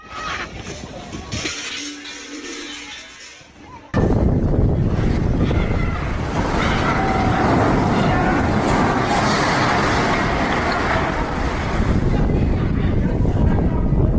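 Strong storm winds roar across Inner Mongolia, toppling walls and uprooting trees, heard as heavy, continuous buffeting against the microphone, loud and unbroken after a quieter, muffled opening.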